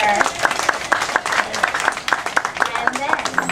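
An audience at a children's storytime event claps in a quick, steady rhythm, the sharp claps close and fairly loud, with a voice likely speaking over them.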